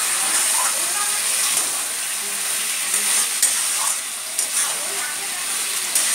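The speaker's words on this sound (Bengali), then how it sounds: "আর এবার আমরা এর মধ্যে চিংড়িগুলো অ্যাড করে দিচ্ছি।" Shrimp frying with kochur loti (taro stolons) in a pan, a steady loud sizzle and hiss with occasional stirring scrapes, close up and continuous.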